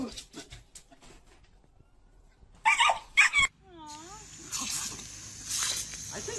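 A small pet dog in a home kitchen gives short whimpering yips and a rising, wavering whine, interspersed with louder bursts of noise and people talking nearby.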